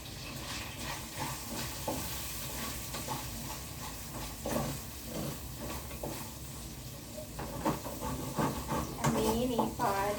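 Chopped ginger sizzles and gets stirred in a pan of hot oil while fish moly is cooked, a steady frying hiss with intermittent scraping stirs, and a person talks over the cooking.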